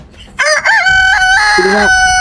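A rooster crows loudly and close by, one long drawn-out cock-a-doodle-doo with a rising start and a sustained, wavering finish.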